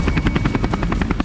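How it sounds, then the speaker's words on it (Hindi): Military helicopters fly overhead with a loud, close, rapid rotor chop, the regular thumping pulses continuing steadily without pause and with no voices. "इन ड्रोन कैमरों के बाद अचानक जंगी हेलीकॉप्टर्स का शोर हुआ।"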